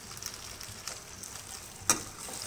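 Onion and okra frying in oil in a pan give a steady soft sizzle, with faint stirring scrapes and one brief sharper clink near the end.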